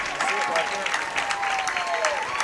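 Hometown crowd at a Babe Ruth World Series baseball game applauding a leadoff single, steady distant clapping and cheering with an announcer talking over it.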